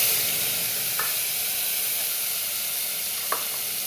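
Spices fry in a hot pan with green chillies and tomatoes, giving a steady, even sizzle and hiss throughout, with two faint clinks of a utensil against the pan.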